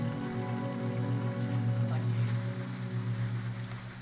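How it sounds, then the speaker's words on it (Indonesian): Heavy rain pours down steadily on a poor family's home with bamboo walls lined with plastic sacks, a dense, constant wash of sound with a low rumbling hum beneath, loud and unbroken throughout. "hujan seakan-akan tak mau berhenti mengguyur bumi sejak siang hari"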